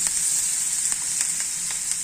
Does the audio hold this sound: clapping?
no